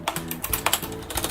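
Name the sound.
typing softly on Corsair STRAFE Cherry MX Red keyboard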